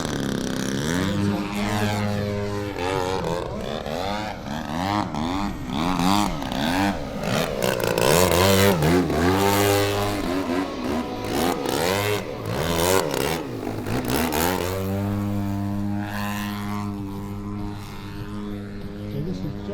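A DA-120cc gas engine powering a Flex Innovations Edge 540 35% scale RC aerobatic airplane, flying at Weston Park, buzzes loudly and continuously, pitch swooping up and down as it passes and throttles through manoeuvres.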